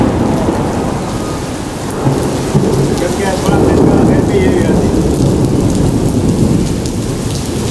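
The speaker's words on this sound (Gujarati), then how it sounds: "બહાર તો વરસાદ જ એટલો ચાલુ છે ધમ ધોકાળ ભાઈ વીજળી કડાકાન ભડાકાન" Heavy rain pours steadily outdoors in Surat during a monsoon storm, with rolling thunder rumbling through the downpour and a voice speaking briefly over the roar.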